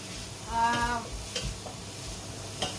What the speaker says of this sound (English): So I'm just going to gently fry them instead.